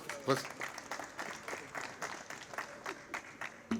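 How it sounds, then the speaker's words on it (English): Scattered applause at a FIFA World Cup trophy tour event, thin and uneven claps in faint bursts with a voice speaking over them. "Can we give a hand of applause to?"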